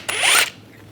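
A ratchet with a 14mm socket turns a brake caliper bracket bolt on a 2008-2017 Buick Enclave in one quick, close burst of rapid pawl clicking lasting under half a second.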